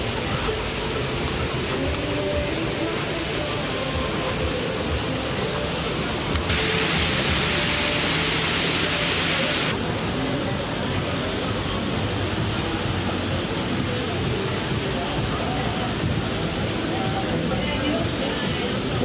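A water feature in a New York park gives off a steady, broadband rush of flowing, splashing water, loud and continuous, with a brief harsher surge midway and someone talking over it.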